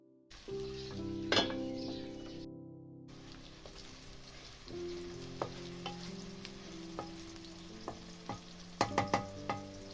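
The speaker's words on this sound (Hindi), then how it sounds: "इसमें प्याज डाल के प्याज को अच्छी तरह ब्राउन कर लें" Onions sizzle in ghee in a kadai during a degi aloo gosht preparation, a low steady fry broken by scattered clinks and scraping stirs, ending in a cluster of sharper utensil knocks.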